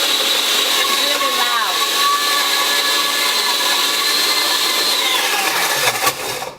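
A high-powered Vitamix blender whirs loudly and steadily with a shifting motor whine, then winds down and stops near the end.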